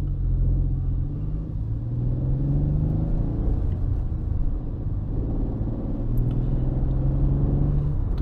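Hyundai Bayon 1.0 T-GDI engine idling softly after an automatic start-stop restart, a low steady rumble heard from inside the car with faint, even tone throughout and no talk.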